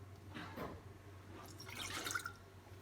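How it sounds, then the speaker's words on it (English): Water trickles and splashes softly into a pan holding butter over a very low flame for choux pastry dough, a faint, brief pour over a low steady hum. "then you put the water."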